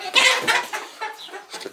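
Chickens cluck close by in a few short, quick bursts on a sheep farm.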